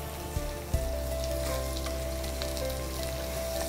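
Potato pieces fry with crushed ginger and garlic for a spicy potato fry, giving a dense, loud, continuous sizzle up close, opened by a couple of brief clinks as they go into the pan, with no voices.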